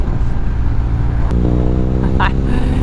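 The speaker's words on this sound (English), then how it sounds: "I can really feel the engine underneath me on this bike, this boxer engine" BMW R 1250 R boxer-engine motorcycle rumbling steadily underneath the rider, a continuous low engine drone with wind and road noise and a voice talking over it.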